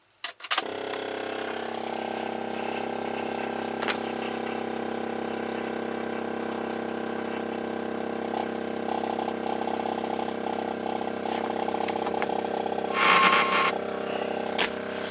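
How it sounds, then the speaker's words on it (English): A 2002 GMC W4500 V8 dump truck idles steadily while its faulty, leaking brake booster keeps pumping up, giving a continuous mechanical hum with a faint rhythmic ratcheting, rising briefly near the end. "there's something wrong with the brake booster. It's just pumping up all the time."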